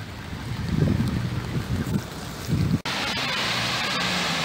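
Heavy downpour of rain outdoors, a loud steady roar of falling water with gusty rumbling noise, briefly cutting out before resuming as a dense even hiss.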